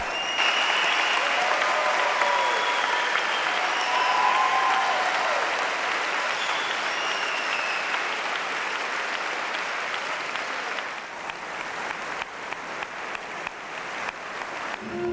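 Sustained applause from a large crowd with cheering mixed in as medalists perform laps of honor at a Jerez equestrian event, loud and steady, thinning toward the end into scattered claps.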